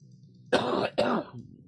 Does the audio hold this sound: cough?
yes